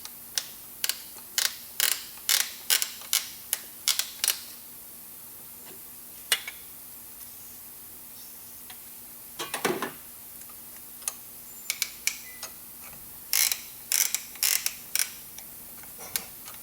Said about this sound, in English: we'll take our 15 wrench and stroke it back and forth